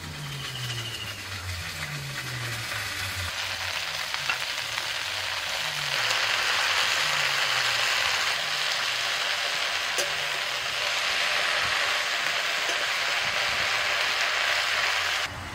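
Onion and noto greens fry in a pan, giving a steady close-up sizzle that swells noticeably louder partway through and keeps hissing on without any talk.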